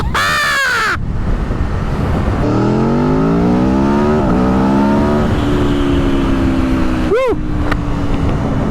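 A 2022 Aprilia Tuono V4 motorcycle engine climbs steadily in pitch as it accelerates through a wheelie, loud and continuous under steady wind noise, with a brief shout at the start and a crow cawing near the end.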